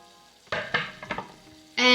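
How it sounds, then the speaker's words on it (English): Browned beef mince and onions sizzle in a pan while chopped tomatoes drop in, with several sharp splashy bursts of hissing that jump louder near the end. "once the mince and the onions are browned and married each other, I'm going to add the 2 chopped up tomatoes"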